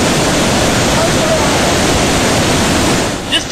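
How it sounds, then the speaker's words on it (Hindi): A torrent of water rushes down from the mountains in a flood, a loud, steady roar of churning water that fills the whole stretch without a break. "पहाड़ों से हाहाकार मचाता यहां पानी नीचे की तरफ आ रहा है"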